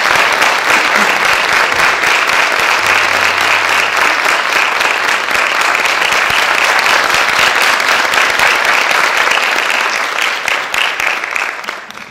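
Sustained, loud audience applause at a classical Turkish music concert by a state choir, welcoming a soloist to the stage; the dense clapping holds steady for about ten seconds, then begins to thin and fade.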